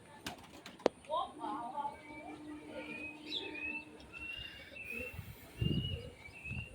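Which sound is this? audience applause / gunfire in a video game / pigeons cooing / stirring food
pigeons cooing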